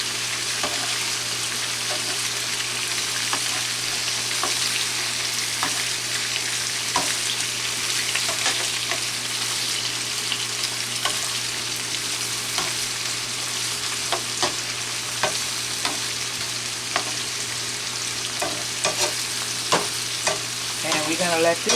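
Shrimp cook in a frying pan with a constant, loud, dense sizzle and scattered small pops, unbroken and with no talk for the whole stretch.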